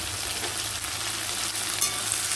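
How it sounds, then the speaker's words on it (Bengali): Potatoes and other chopped ingredients fry together in a pan for a teasel gourd (kakrol) dish, giving a steady, close, continuous oily sizzle with faint stirring, no voices. "এবার সব উপকরণ একসঙ্গে মিশিয়ে আমি ভাজতে থাকবো"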